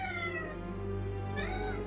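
A cat meows twice, close and fairly loud, a drawn-out plaintive cry followed by a second rising meow over a low steady background hum.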